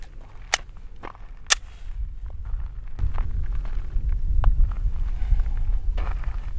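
An XD-9 pistol fires during trigger manipulation practice: a few sharp, distant cracks early on, then fainter reports over steady wind and handling noise, with no clear count of five.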